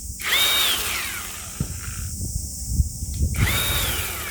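A small Bauer 20V brushless lithium battery chainsaw revs loudly up close, whining, dropping and rising again in short bursts, with clicks and handling knocks between runs and no talk.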